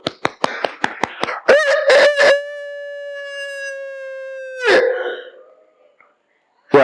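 Children imitate a rooster crowing: a few quick clucks, then one long, loud cock-a-doodle-doo held for several seconds. It ends in a burst of noise, then goes quiet.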